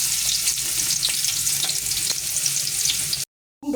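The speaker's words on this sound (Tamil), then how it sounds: "அந்த பூண்டை இப்போ போட போகிறோம்" Chopped garlic fries steadily in a pan, a loud even sizzle with a few light scrapes of stirring, then cuts to silence just before the end.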